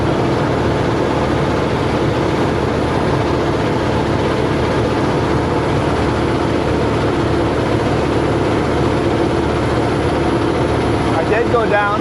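A vehicle engine labours in low gear on a Monashee Mountains road, a loud, steady low drone that holds constant throughout, with a voice talking over it.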